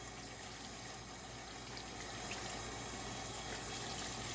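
Water runs steadily while microfiber cloths are rinsed out, giving a constant broad splashing rush at moderate level with no pauses and no voices.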